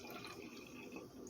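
Sparkling water poured into a wine glass holding a little Pinot Noir, a quiet continuous fizzing splash heard close and alone for a moment.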